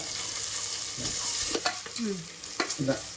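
Ginger garlic paste is stirred in a cooking pot while making mutton pulao, a spoon scraping and knocking against the pot in several short strokes over a steady sizzle of frying.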